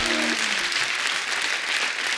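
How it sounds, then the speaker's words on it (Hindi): A studio audience at the Kapil Sharma Show breaks into loud, dense applause that fills the space without pause, close and sustained throughout. "एक बार जोरदार ताली हो जाए।"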